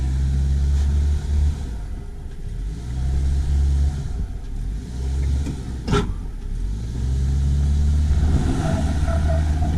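A Subaru engine idles and revs gently as the car creeps over rocks off-road. The low engine drone is close and continuous, with a few rises and dips and one sharp knock partway through.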